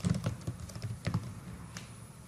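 Keys clatter on a computer keyboard while a father's name is typed into an online form for an APAAR ID, a quick run of close, crisp clicks with short pauses between them and no talking.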